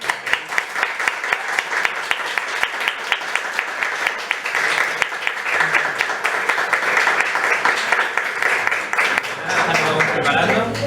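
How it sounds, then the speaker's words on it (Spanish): A conference audience applauds at the close of a talk, giving sustained, dense clapping across the room with a few louder nearby claps. Voices murmur faintly underneath, and the applause thins out toward the end. "un aplauso a..."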